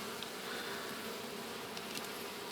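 Honey bees buzz densely around frames lifted from a hive during a honey harvest, a steady, fairly faint swarm hum filling the whole moment with no talk.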